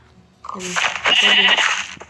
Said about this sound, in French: Il faut que je tue des moutons pour avoir de la laine.